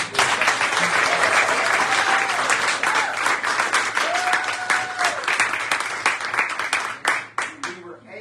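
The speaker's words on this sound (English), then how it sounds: "So big round of applause to these." An audience applauds the winners of a horse training contest, with sustained, fairly loud clapping from a crowd and a voice talking over it before the applause thins toward the end.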